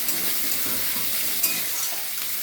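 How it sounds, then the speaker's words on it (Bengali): Onions frying in hot, darkened oil for a Bengali chicken curry, a loud, steady hiss of sizzling close by, with one faint clink of a utensil midway and no voices. "পেঁয়াজটা একটু ভাজবে"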